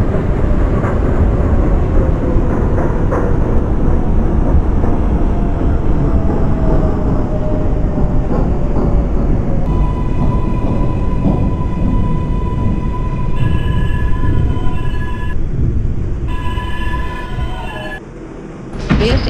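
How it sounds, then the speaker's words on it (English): A Bronx-bound 4 Express subway train on the IRT Lexington Avenue line in the BVE train simulator, with a steady loud rumble of wheels and motors, a long rising motor whine, then brief high tones near the end as it slows. "This is a Bronx-bound 4 Express train."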